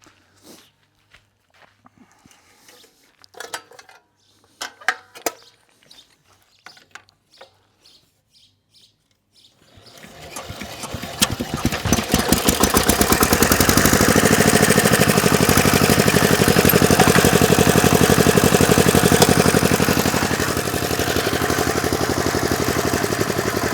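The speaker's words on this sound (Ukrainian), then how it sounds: "заведу мотоблок і покажу вам, як саме ведеться сцеплення" Quiet outdoor clicks and faint footsteps come first, then the engine of a walk-behind tractor starts and settles into a loud, steady, rapid chugging idle that fills the rest of the clip.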